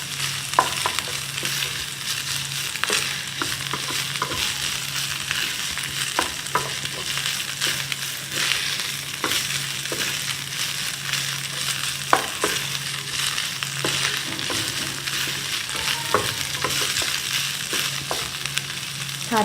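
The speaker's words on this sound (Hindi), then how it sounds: "तो अच्छी तरह से फ्राई करें।" Food fries in a little oil in a pan, sizzling steadily and close by, with frequent quick scrapes and clicks of stirring throughout.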